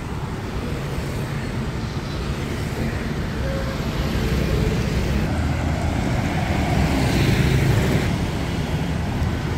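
Traffic passes along the roadside of national highway 32 as a continuous broadband rumble and hiss from nearby vehicles, swelling louder through the middle as something passes closer.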